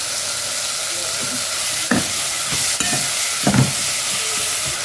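Steady sizzling of vegetables sautéing in a pan with salt for rasam, with a few soft scrapes and clinks of stirring over the constant hiss.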